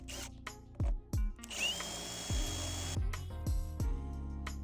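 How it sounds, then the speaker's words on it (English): A power drill whirs in short repeated bursts while drilling pilot holes in a door, each spinning up and cutting off, with brief pauses between, close and fairly loud. "Then I busted out my drill, I drilled my pilot holes, and I got my step bit ready to go"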